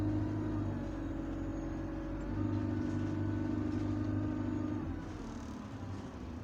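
A Euro 5 E200 bus engine in the Roblox game rumbles at low, steady idle, close and moderately loud, swelling slightly in the middle before settling back, with no talking.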